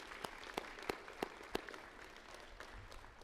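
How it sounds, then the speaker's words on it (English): An audience at a high school summa cum laude graduation ceremony applauds steadily, with a few sharper claps standing out above a soft, continuous wash of clapping heard from a distance. "please give those who came out to see you tonight a round of applause"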